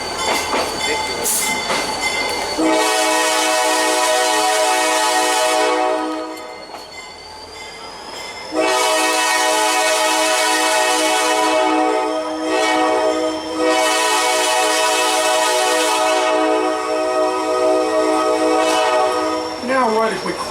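A train at the Orvilla Road crossing, near the old Orvilla Station, sounds long, loud horn blasts close by, with short pauses between them and wheel squeal and rumble underneath.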